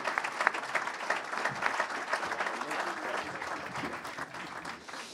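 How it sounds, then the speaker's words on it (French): Audience applause at an ACO press conference for the 2023 24 Hours of Le Mans, a dense steady patter of many hands clapping close by, holding strong before thinning slightly at the end. "va nous rejoindre avec vos applaudissements"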